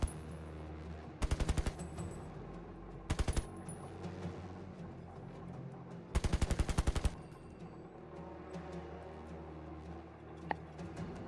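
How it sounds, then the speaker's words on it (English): Distant, muffled bursts of automatic gunfire come in several short rapid volleys separated by quiet gaps, over a low steady background hum. "And you all just hear distant gunshots,"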